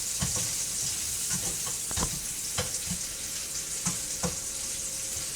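Food for Spanish-style rice with sausage, sofrito and olives sizzles steadily in a pan, a constant bright frying hiss with occasional soft clicks and stirring taps.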